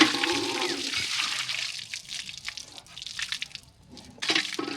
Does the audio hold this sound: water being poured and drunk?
yes